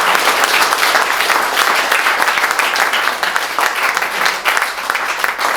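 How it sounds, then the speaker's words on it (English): Wedding guests applaud together in a steady, loud burst of clapping at a reception, dense and continuous throughout with no voices standing out. "So I'd just like a quick round of applause for Sean and the guys."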